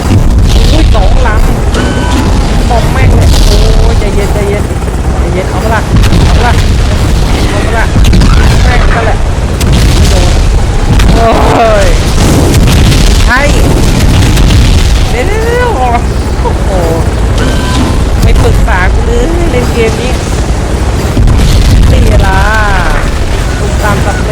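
Bomb explosions in the PS2 action game 007 Everything or Nothing, loud, dense booming blasts and rumble running continuously, with a voice talking over the din.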